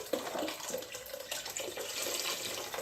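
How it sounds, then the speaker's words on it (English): Vegetable stock pours steadily into a soup pot of roasted corn and vegetables, a continuous close splashing gush of liquid with no talking. "And I'm adding vegetable stock to this."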